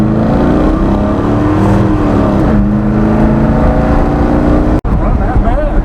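A 1986 Chevy truck's engine pulls hard, a loud close rumble whose pitch sweeps up and down with revs, with people talking over it and a brief dropout near the end.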